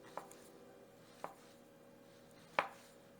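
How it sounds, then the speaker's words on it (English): Three crisp, separate knife strokes chop through shrimp on a cutting board, spaced roughly a second apart with the last one the loudest, close up over quiet kitchen room tone and no voices. "I'm just going to slice these"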